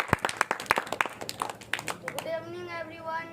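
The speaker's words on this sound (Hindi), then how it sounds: "जोरदार तालियों से स्वागत करें आशीष जी का।" Brief scattered clapping from a small group at a birthday commemoration event, several sharp claps close by for about two seconds, then a voice begins speaking.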